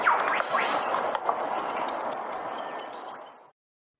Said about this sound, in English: Gerygone birds make sound like.